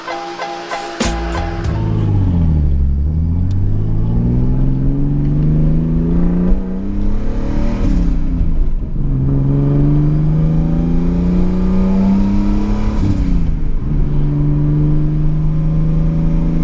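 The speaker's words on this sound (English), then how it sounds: "What do you guys say we just hop and go for a ride" A Nissan 240SX accelerates on the road, its engine note climbing through the gears with rises and drops at each shift, loud and close from inside the car with some wind noise.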